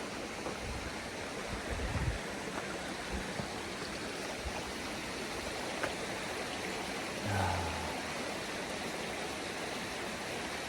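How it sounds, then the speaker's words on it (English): Water flows steadily along a stream beside the Appalachian Trail, a continuous rushing wash with no voices, broken only by a few faint low thumps. "just so I can listen to that water some more"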